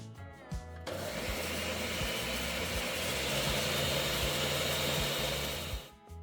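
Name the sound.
blender grinding oats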